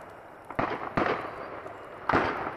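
A small firework goes off in a quick series of sharp crackling bursts, three distinct pops spread over a couple of seconds, nearby and moderately loud with no talking.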